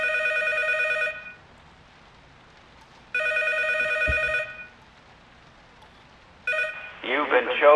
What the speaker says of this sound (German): Ja, das Telefon klingelt.